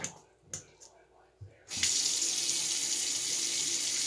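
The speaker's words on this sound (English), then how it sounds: "And that will fill up your sink with water." After a few clicks and knocks, a bathroom sink faucet turns on and water gushes steadily into the sink, a loud continuous hiss filling the rest.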